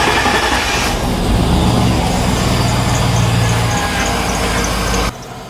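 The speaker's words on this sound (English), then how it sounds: "So now I'm gonna go in the vehicle and start the engine." A GMC Yukon engine runs at a steady idle, a loud, continuous low rumble close by that drops away abruptly near the end.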